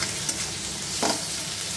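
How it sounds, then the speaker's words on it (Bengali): Onions with a little salt frying in a pan, a steady soft sizzle throughout with a brief stir of the spatula partway through; no voices. "পেঁয়াজগুলোকে 2 মিনিটের মতন ভেজে নেব।"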